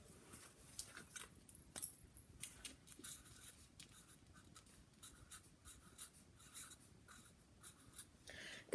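A child writes a word by hand, pencil strokes scratching softly in short bursts with pauses, quiet and close, during a classroom literacy spelling game.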